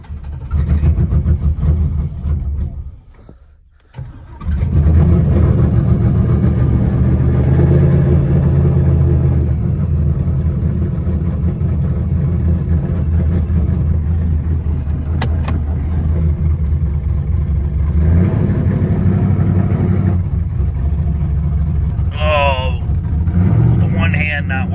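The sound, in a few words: nitrous LS V8 burnout car engine running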